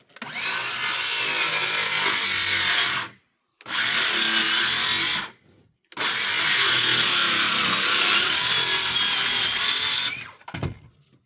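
A power saw rips through wood at a 5 degree angle for workshop firewood storage, with three long loud buzzing cuts separated by short pauses and a brief burst at the end, close up and without speech.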